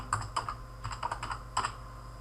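Close, quiet clicking of keys on a computer keyboard as a word is typed into AutoCAD, in short irregular bursts with brief pauses between them.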